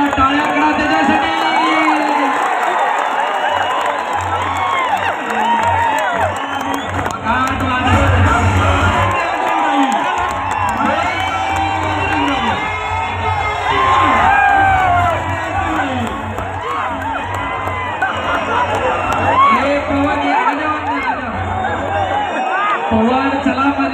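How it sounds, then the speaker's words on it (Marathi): Crowd at a wrestling bout cheering, whooping and shouting loudly throughout, with a voice calling over the noise. "मनोरंजनात्मक कुस्तीला टाळ्या करा त्याच्यासाठी."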